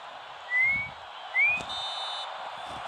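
A referee's whistle in the PES football video game sounds two short rising tweets about a second apart, over quiet background game noise.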